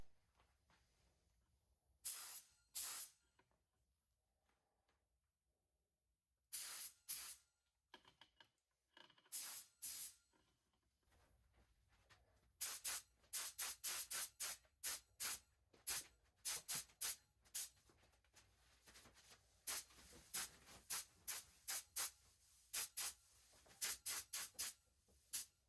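Short bursts of spray paint hiss from a can onto handmade Halloween decorations, starting and stopping irregularly, separated by quiet gaps and growing more frequent toward the end.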